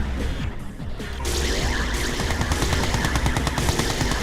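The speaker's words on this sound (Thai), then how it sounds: "ยิงครับยิงครับ" Units firing in Red Alert 2 during an online match: rapid machine-gun bursts and repeated weapon shots rattle continuously, growing denser and louder after the first second amid clanging impacts.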